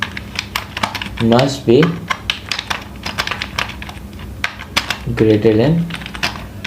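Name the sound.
typing on a computer keyboard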